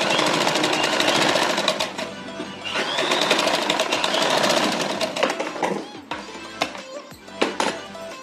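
A sewing machine stitches along a folded fabric strip in a tailoring session, a loud, continuous mechanical rattle that slows and breaks into separate clicks and knocks near the end.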